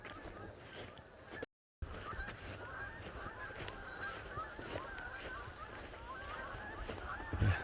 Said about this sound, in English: It looks like we got a flock of geese on the pond. And they're gonna take off